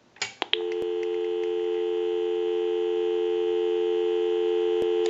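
A Western Electric 302 rotary desk telephone gives a busy signal after a couple of handset clicks, a steady, insistent tone that continues unbroken and fairly loud.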